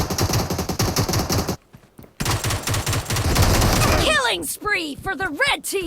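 Rapid bursts of automatic gunfire crackle in PUBG Mobile, dense and loud, broken by a brief pause, then mixed with sharp chirping game effects near the end.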